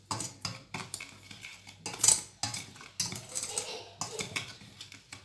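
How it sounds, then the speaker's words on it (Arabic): Dry cake ingredients being stirred together with powdered milk in a bowl for a no-bake, egg-free lazy cake: a series of quick scraping, clinking utensil strokes against the dish, close and fairly quiet. "وغنضيفوا الحليب المجفف، غادي نخلطوا هاد النواشف ديالنا هكا"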